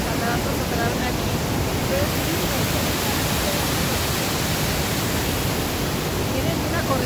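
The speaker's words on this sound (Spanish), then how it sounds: "Tienen una corriente fuerte, ¿eh? Está fuerte, fuerte la corriente." The strong current of the Rhine river rushes steadily at Stein am Rhein, a loud, even broadband roar of moving water with no breaks, while a voice sounds faintly over it.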